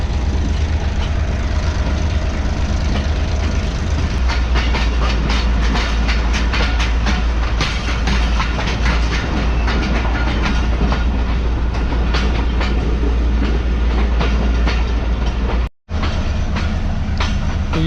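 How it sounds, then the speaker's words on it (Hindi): Mohen Jo Daro passenger train rolling along rails in Sindh after heavy rain, a steady loud rumble with rapid clickety-clack wheel beats throughout and a brief dropout near the end. "जब से ट्रेन निकली है हबीबकोट से कुछ इस तरह की स्पीड में आगे बढ़ रही है।"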